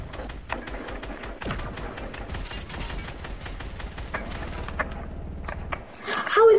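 Rapid automatic gunfire fired at a UFO in the Fortnite video game, dense continuous bursts of shots with game effects, with talking mixed in.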